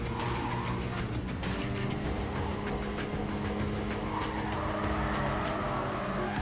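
A Toyota Supra racing in a mobile racing game, its engine droning steadily and loudly throughout with tire squeal and skidding layered on top, and no voices.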